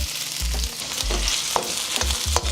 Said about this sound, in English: go ahead and hit it with a little bit of my cooking oil. First thing going in, my onions.